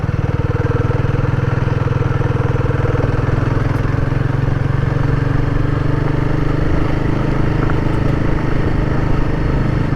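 A Royal Enfield Guerrilla 450 motorcycle in second gear on a rough road, its engine humming in a steady, continuous drone with a low rumbling tone throughout and no speech.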